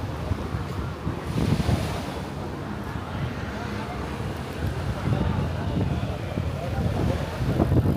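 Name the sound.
ocean waves on the beach at Can Pastilla, Majorca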